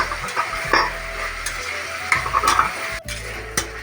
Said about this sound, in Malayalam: അപ്പോൾ അതിനി ഒരു ബ്രൗൺ നിറം ആവുന്നിടം വരെ വഴറ്റിയെടുക്കണം